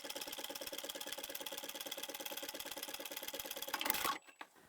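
Sewing machine running steadily and close up, stitching the bottom seam of a vinyl shell-shaped pouch, with an even rapid rhythmic chatter that stops abruptly near the end, followed by a couple of faint clicks.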